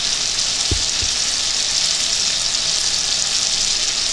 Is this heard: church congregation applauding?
no